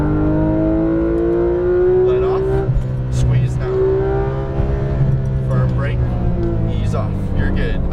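A Porsche 911 GT3 RS engine climbs in pitch as the car accelerates out of a corner on a racetrack, with the tone dropping at each gearshift. An instructor's voice talks over the engine throughout.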